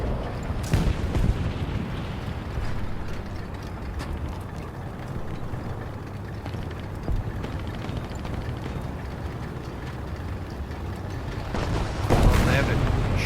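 Anti-aircraft vehicle guns fire in a combat video game, a dense, continuous rumble of rapid gunfire and booms, loud and close, with a person talking over it.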